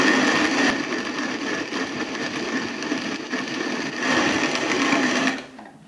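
A WonderMill Junior hand-cranked grain mill grinds grain into fine flour, a close, loud, continuous grinding rasp that fades out at the end.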